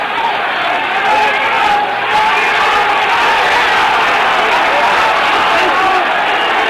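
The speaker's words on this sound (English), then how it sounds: "the partisan German crowd is going wild because Mildenberger is being aggressive" A partisan German boxing crowd in Frankfurt roars without pause at a 1966 heavyweight fight, a loud, dense wall of cheering and shouting that holds steady.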